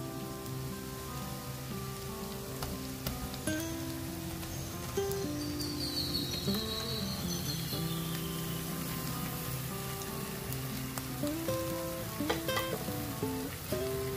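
Chicken pieces sizzle in a pan with cooked garlic and onion for a red chilli chicken fry, a steady crackling hiss running throughout beneath a louder bed of tonal music.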